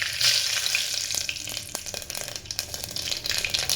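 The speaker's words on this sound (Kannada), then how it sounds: "ಸೊ ಇವಾಗ ಒಗ್ಗರಣೆ ಹಾಕ್ಕೊಂಡ್ಬಿಡ್ತೀನಿ" A tempering of mustard seeds, curry leaves and green chilies sizzles and crackles in hot oil, a dense, loud fry with small pops and stirring scrapes throughout.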